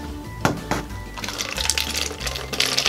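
Water is poured in small amounts into a bottle for a tornado-in-a-bottle craft, a close gurgling, splashing trickle with a couple of sharp knocks early on and a rising rush of liquid toward the end.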